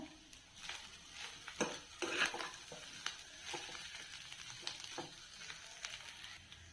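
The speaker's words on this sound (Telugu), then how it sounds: "ఇప్పుడు సన్నగా తరుక్కున్న కరేపాకు వేస్తున్నాను" Chopped curry leaves hit hot oil in a frying pan with fish roe, bringing a faint, crackling sizzle with scattered pops and soft stirring scrapes, no voices.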